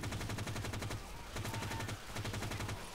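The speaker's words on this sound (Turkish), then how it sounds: "Silah ne güzel ritim tutuyor." Rapid automatic gunfire from a weapon in the co-op zombie shooter Left 4 Dead 2, three steady bursts of evenly spaced shots in a tight rhythm, loud and close with brief pauses between bursts.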